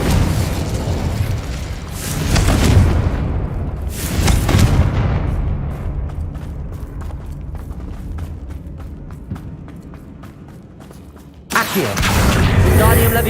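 Confringo spell explosions in Hogwarts Legacy erupt in loud booming bursts, a couple of big blasts followed by a decaying rumble with rapid crackling pops, then another sudden heavy explosion.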